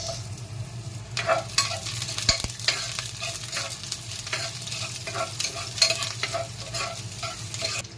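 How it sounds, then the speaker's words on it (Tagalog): Onions sautéing in a pan for squid adobo, a continuous close sizzle broken by frequent scraping and stirring strokes with a utensil, moderately loud with no talking. "nagisin natin ang sibuyas"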